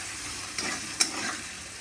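Potatoes with salt and turmeric are stirred in a pan, giving a soft, continuous sizzle with a couple of faint scraping knocks from the spoon, quiet and without speech.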